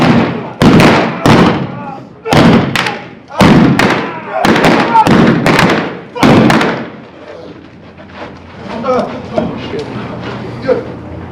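Blank-fire gunshots ring out at an O.K. Corral shootout reenactment in Tombstone, Arizona: about eight loud, sharp cracks in quick succession with echoing tails, then crowd murmur and shouting voices.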